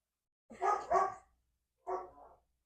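A dog barks indoors, giving a quick double bark and then a single bark after a short pause, clear and fairly close, with no other sound.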